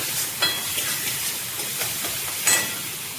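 Spice paste sizzles and crackles steadily while being sautéed for a katla fish curry, a close, continuous frying hiss with a few sharper spits and stirring scrapes.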